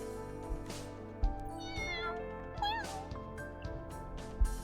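A small kitten meows in the video game Aether Gazer, with several short rising and falling mews over soft background music.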